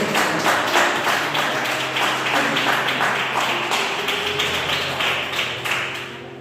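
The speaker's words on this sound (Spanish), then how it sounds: "¿Cuántos dan un fuerte aplauso a Dios?" Church congregation giving a strong round of applause, rhythmic unified clapping at a steady beat, loud and sustained, with a low musical drone underneath.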